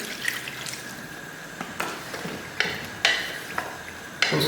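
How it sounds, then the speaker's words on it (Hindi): Half a cup of water goes into a pan of frying potatoes for aloo katlian, bringing a wet splash and trickle along with scattered clicks and taps against the pan. "इस तरह भूनने के बाद हम इसमें आधी प्याली पानी डाल देंगे।"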